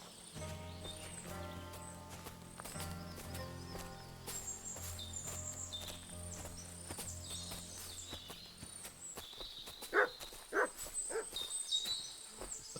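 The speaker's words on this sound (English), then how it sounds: "The dog be barking." A dog in a medieval fort barks a few times in Kingdom Come: Deliverance II, short sharp yelps near the end over soft game music and ambience.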